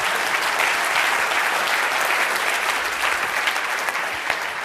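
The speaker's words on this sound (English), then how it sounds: "Give him a round of applause." A live audience at a body language demonstration breaks into steady, dense applause that holds at full strength for the whole stretch, close and loud with no pauses.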